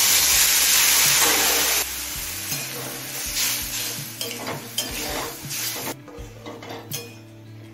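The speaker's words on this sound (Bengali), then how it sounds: "জল দিয়ে সবকিছু ভালোভাবে মিশিয়ে নিয়েছি" Taro stolon poppy seed curry stirred in a pot after water is added, a loud wet sizzle and scraping spoon strokes that settle into quieter bubbling and clinks against the pan.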